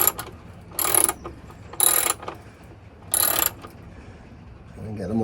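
A ratchet tightens bolts on the rear rack of a Honda Rebel 500 in three quick bursts of rapid clicking separated by pauses, close up, with faint knocks and movement between.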